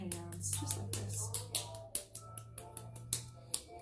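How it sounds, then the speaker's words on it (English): A one-pound ball of clay is slapped back and forth between open hands, giving a quick, steady series of sharp, close slaps with a faint hum underneath. "I like slapping it in my hands, just like this"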